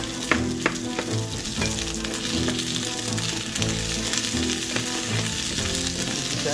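Chopped garlic sizzles steadily in hot oil in a pan, a dense crackling fry with occasional sharp pops and stirring scrapes, close and continuous throughout with no voices.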